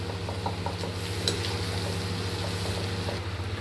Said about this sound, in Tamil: அந்த ரைஸை போட்டு இதோட கிளறி விடலாம்